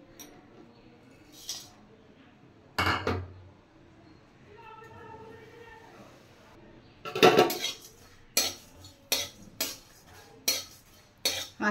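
A kadai set down on a stove, with sharp metallic clanks and pots clinking in quick bursts, louder toward the end, over a quiet kitchen background.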